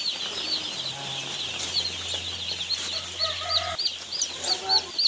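Newly hatched chicks on a farm, fed and kept warm in a brooder, peep and chirp in a steady high-pitched chorus with a few soft clucking and flapping sounds mixed in, close by, with no talking.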